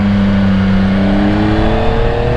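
Motorcycle engine held at high revs with front brake and throttle applied together, a steady loud drone with rising harmonic whine, close and continuous with no talk.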